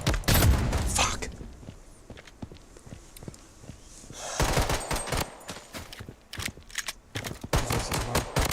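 Gunfire in the video game Blood Strike, loud bursts of rapid shots and cracks with a quieter stretch of single shots in between, under a shouting voice.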